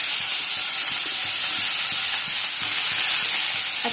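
Carrots and beans fry in hot white oil, a steady close sizzling hiss that holds constant throughout without pauses or voices.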